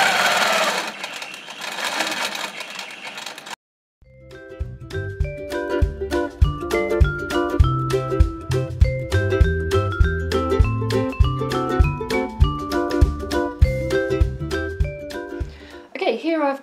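A sewing machine stitches a quilt along a ruler, a rapid even mechanical chatter of needle strokes lasting several seconds, preceded and followed by softer handling noise and talk.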